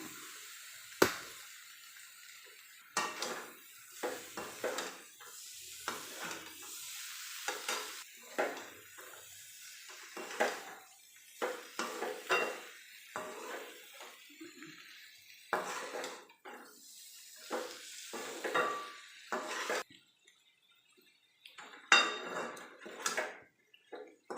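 Boiled, drained potatoes go into a pan for potato roast and are stirred, giving repeated scraping and clattering of a utensil against the pan with faint sizzling, in irregular bursts separated by brief pauses.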